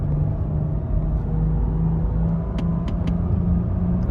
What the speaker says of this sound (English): Like I'm at full throttle right now, we're flooring it.